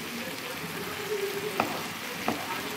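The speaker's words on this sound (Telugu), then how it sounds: "ఒకసారి కలుపుకున్నాం." Tomato vegetable curry stirred in a frying pan, a soft continuous sizzle with two distinct scraping strokes of the spoon, fairly quiet and close with no speech.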